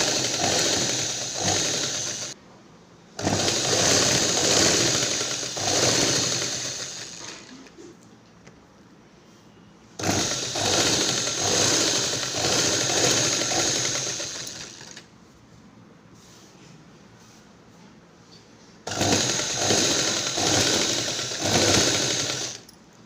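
Sewing machine stitching a fall onto a saree, running in three steady bursts of several seconds each, separated by quiet pauses with faint handling sounds, close and clear with no talking.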